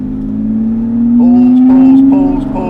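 A Jaguar E-Type restomod (E-Type UK Unleashed) accelerates hard in third gear from low revs, its engine note rising steadily and loud close up.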